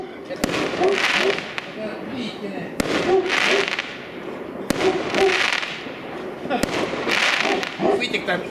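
New Year fireworks burst repeatedly outdoors, a series of sharp cracks spaced every couple of seconds followed by crackling fizz, with people talking throughout.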